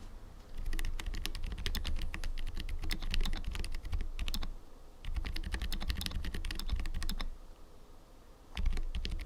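Soft, muted typing on an Asus ROG Azoth mechanical keyboard with silent tactile switches, in quick bursts of clicks with short pauses between runs of keystrokes; close and fairly quiet.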